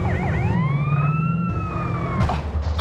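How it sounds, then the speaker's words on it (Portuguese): A police siren from the game GTA San Andreas wails loud and continuous, its pitch rising and falling in long sweeps over engine rumble and game noise, with a burst of crashing clatter near the end. "Como é que desliga essa sirene, velho?"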